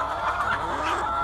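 Laying hens cluck in a chicken coop, a continuous, fairly loud chorus of overlapping clucks and murmurs from several birds close by.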